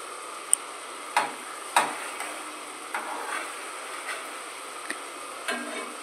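Potatoes and spices frying in a pan with a little water added, a quiet low sizzle broken by a few sharp scrapes and clicks of stirring, with no talking.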